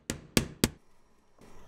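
Three sharp hammer blows drive nails into a wooden support batten in quick, even succession, close and distinct, followed by a short pause and a faint scrape.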